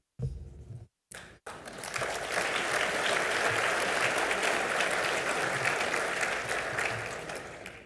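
An audience at a Cayman Chamber parliamentary luncheon breaks into sustained, loud applause after a brief pause, a dense wash of clapping hands that holds steady for several seconds before starting to fade.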